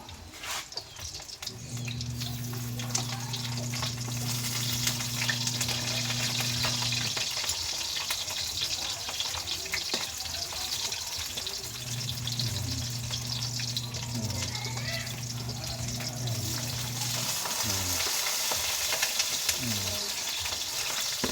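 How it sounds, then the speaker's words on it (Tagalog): Hotdog and eggplant frying in a pan for a provincial breakfast, giving a steady, dense sizzle throughout, with an intermittent low hum underneath and occasional clatter. "So, luto ng ating hotdog at saka talong yan."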